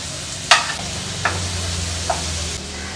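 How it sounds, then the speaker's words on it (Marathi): Ginger, garlic, chili and coriander paste frying in hot oil for a fish curry, a steady sizzle with three spatula scrapes spaced across it, close and fairly quiet. "हा क्रश तेलावर थोडासा आपल्याला परतून घ्यायचा आहे"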